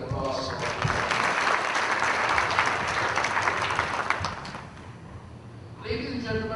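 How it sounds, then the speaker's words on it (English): An audience at a Pakistan Armed Forces Association of Canada dinner breaks into sustained applause for a commander, a dense wash of clapping that swells for several seconds and then fades out. "So let us have a big applause."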